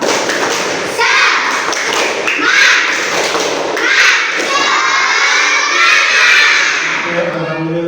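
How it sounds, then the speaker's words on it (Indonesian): Children in a Ramadan fasting fiqh lesson clap and shout a rhythmic 'tepuk semangat' chant together, with steady bursts of claps and voices filling the room for several seconds. "Kita tepuk semangat terlebih dahulu yuk"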